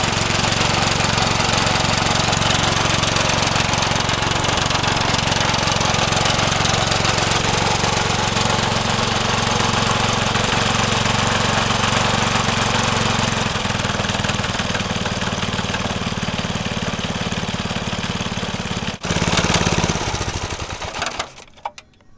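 A vintage Craftsman 18-inch snowblower engine runs loud and steady at close range with a rough, buzzing drone, then sputters and dies near the end.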